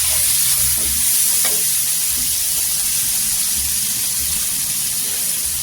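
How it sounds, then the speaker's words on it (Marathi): Ground masala paste frying in hot oil for a spicy egg dish, a steady, close sizzle that keeps going with faint stirring scrapes and no talk. "इथे आहे ना छान असं वाटण आपण तेलावर परतून घ्यायचं।"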